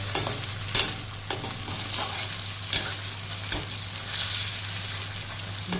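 Potatoes and mushrooms frying in oil for a home-style mushroom sabzi, a steady close sizzle with a low hum beneath and sharp scraping clicks of a spatula stirring the pan at intervals.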